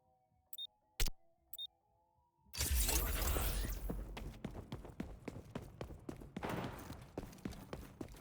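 Magazine swap in the shooter XDefiant: a few crisp, separate clicks and clacks sound first, then loud, dense gunfire and combat noise crash in and continue to the end.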